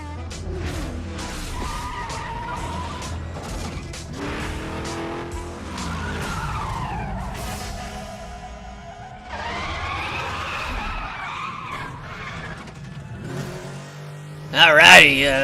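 An El Camino races in Need for Speed The Run, its engine revving and surging with repeated tire squeals and skids. The sound rises and falls over about fifteen seconds and ends with a sharp loud burst.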